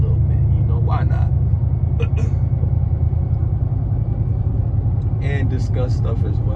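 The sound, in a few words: Chevy car driving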